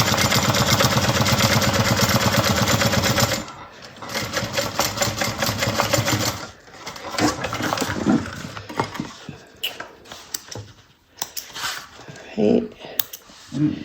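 A sewing machine stitches a bucket bag in a fast, steady run for about three and a half seconds, then stops as a person talks over quieter handling noises.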